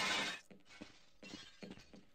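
Glass shatters in a loud burst at the start in the Half-Life video game, followed by several softer clinks and thuds of falling shards and debris, with no talking.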